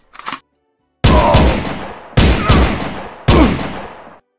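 Loud gunfire in the GTA game: a short sound, then three long, dense bursts of automatic shots, each ending abruptly with a fading echo.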